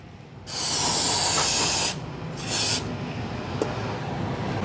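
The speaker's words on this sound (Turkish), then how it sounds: "Şu yenisi pistonun iç kısmını da balta spreyiyle bir temizleyeyim." Brake cleaner sprayed into the piston of a brake caliper from an Opel Corsa, a loud close hissing spray lasting about a second and a half, followed by a shorter second burst, with no talking.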